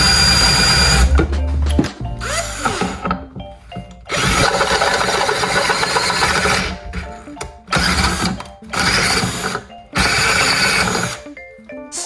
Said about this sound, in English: now I'm gonna drill out this small section right here